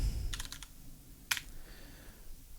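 Keystrokes on a computer keyboard as a command is typed: a quick burst of four or five clicks, a pause, then one sharper single tap, close and fairly quiet with no talk.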